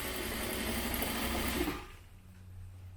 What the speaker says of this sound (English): So we're just going to stitch on top of that stitch line